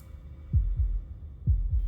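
Heartbeat from the video game Slay the Princess: two paired low thumps, lub-dub, repeating twice at an even pace, close and deep over a quiet hum, with no voices.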